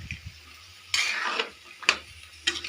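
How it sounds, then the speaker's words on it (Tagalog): Vegetables being stirred in a pan with a little water for ginisang pakbet, giving three separate scraping, sizzling strokes of a utensil against the pan, close and moderately loud, with quiet pauses between them. "Saka natin siya halu-haluin"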